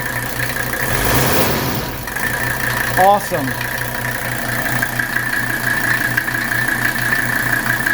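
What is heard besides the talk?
1981 Mercedes 300SD engine idling smoothly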